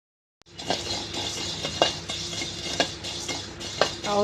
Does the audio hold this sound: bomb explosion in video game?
no